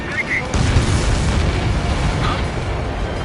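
A missile blast in an Ace Combat air combat game, a loud, rumbling boom that stays heavy and sustained amid the game's noise.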